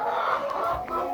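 Farm hens that have started sitting on eggs give a brief burst of throaty clucking, close and fairly loud, with no talk.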